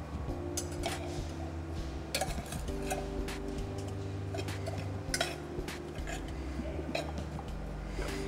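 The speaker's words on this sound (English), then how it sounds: "And we stir." A utensil stirs food and butter in a pot over a fire, giving quiet clinks and scrapes against the pot in an uneven rhythm over a steady low hum.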